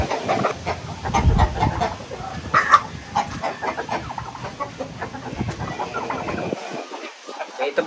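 Two chickens kept in a cage cluck in short, irregular bursts through a busy, noisy stretch, with some broadband clatter and a brief quieter dip near the end.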